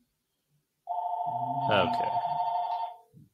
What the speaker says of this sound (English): Let's see if I can call the landline here.